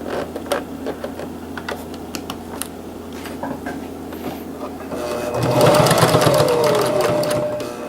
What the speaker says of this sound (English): I figured I better get these sewn on